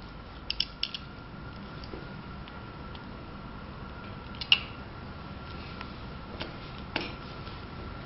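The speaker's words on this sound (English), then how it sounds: "If you find this part loose, you can use a small tool to fasten it." A small hand tool tightens a loose front screw on an e-bike during assembly, giving faint, scattered ratchet-like ticks and clicks over a low background hush.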